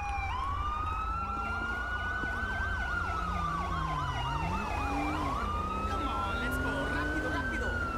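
Ambulance siren in GTA V during an LSPDFR police-mode session, wailing and yelping continuously through the whole stretch over engine rumble, with a second siren layered in and brief talk overhead.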